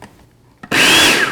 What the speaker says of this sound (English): I'm just gonna pulse this a couple times to mix our dry ingredients